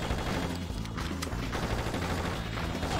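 Dense gunfire and blasts from the video game Just Cause, a steady rattling barrage with heavy low booms running continuously throughout, no talk over it.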